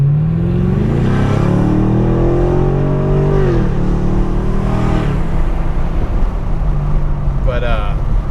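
A Camaro SS fitted with a Roto-Fab cold-air intake accelerates hard under its automatic transmission, the engine note climbing and dropping through several quick upshifts, loud and close from inside the car.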